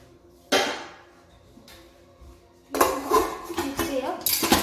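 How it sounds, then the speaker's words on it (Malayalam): A snack made with Lays chips is mixed in a bowl, with sharp clatters and rustling rattles that come in bursts after a quiet start. "എന്നാൽ നമുക്കൊന്ന് മിക്സ് ചെയ്യാം"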